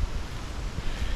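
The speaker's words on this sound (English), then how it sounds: "So as you guys can tell, it is pretty windy." Strong storm wind, around 25 mph, blows across a fishing boat and buffets the microphone in a continuous, loud roar with uneven low gusts and no talking.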